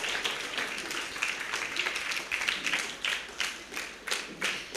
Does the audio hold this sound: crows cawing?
no